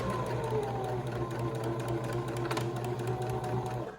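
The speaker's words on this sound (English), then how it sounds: "we'll sew one straight line, edge of the presser foot" A sewing machine runs steadily while stitching one straight seam on a fabric face mask, a continuous close motor whir with a fast even needle rhythm that does not let up.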